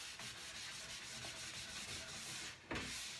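Black furniture wax is rubbed by hand over a cobalt blue painted wooden chest, giving a steady soft scrubbing and brushing texture that runs continuously, with a brief louder scuff near the end.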